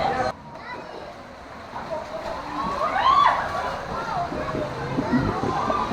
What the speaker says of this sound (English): There is another rapid river coming up.